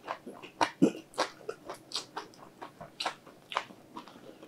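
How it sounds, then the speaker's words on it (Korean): Close crunchy bites and chewing of a Domino's chili crab pizza topped with shrimp, pineapple and cereal, a series of sharp crisp crunches with soft mouth sounds between, without talk. "시리얼 완창 뿌려진 이 부분도 먹어볼게요."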